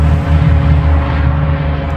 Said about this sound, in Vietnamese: Có một chiếc trực thăng hay cái gì nó bay ở trên nè